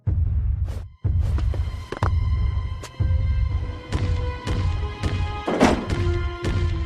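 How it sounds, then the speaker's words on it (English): Heavy ogre footsteps as a sound effect: deep, booming thumps landing roughly once a second in a slow, regular stomping rhythm, loud and close. "The ogre's footsteps shook the house."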